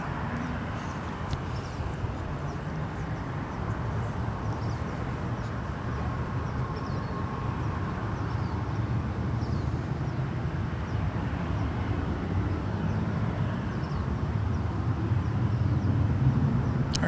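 A jet airliner passes at San Francisco International Airport, its broad engine roar rumbling steadily and growing slightly louder throughout, with no speech over it.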